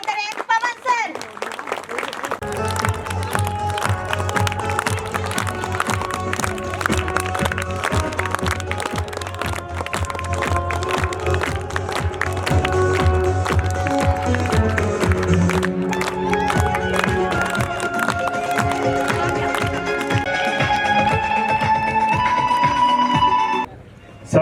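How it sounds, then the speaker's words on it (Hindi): Audience applause welcoming a host at a Republic Day 2023 celebration at a senior secondary school in Sahuwala. Sustained clapping runs for about twenty seconds over a steady background of electronic tones and children's voices, then cuts off abruptly. "प्लीज जोरदार तालियों के साथ वेलकम करें पवन सर।"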